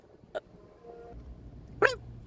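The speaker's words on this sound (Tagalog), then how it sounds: "Tumatahol-tahol na." Puppies of a stray street dog in Saudi Arabia give two short, high yips about a second and a half apart, the second louder, over faint background noise.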